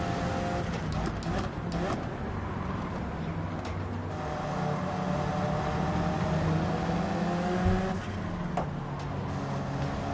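Race cars, including a BMW and an Alfa, engines droning and shifting pitch as they battle closely on track in Gran Turismo 7, a steady loud roar with occasional revving swells.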